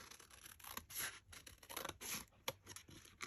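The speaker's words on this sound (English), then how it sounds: "I'm going to cut this open." Scissors cut open craft material for a Christmas gift, a close, quiet run of snipping, rustling and scraping strokes with no voices.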